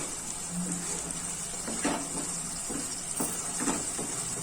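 Masala roasting in a non-stick pan, a steady, moderate sizzle broken by a few soft scrapes and taps of a spatula against the pan, with no one speaking.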